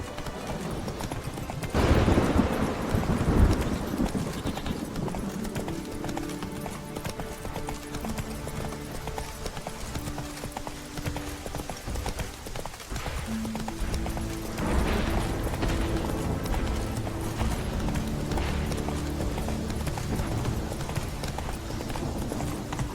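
Horse hooves clip-clop steadily in The Witcher 3 as the rider's mount trots along, a continuous rhythmic patter under game music and ambience, with a brief louder burst early on.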